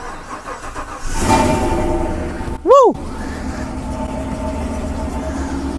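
A Chevy Silverado pickup engine starts with a brief loud crank and rising whine, then settles into a steady, slightly loud idle suggesting a possible exhaust leak, close by, with a short shout just before.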